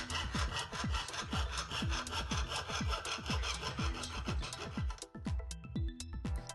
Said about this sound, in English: used a jewellery saw to cut out my strip of silver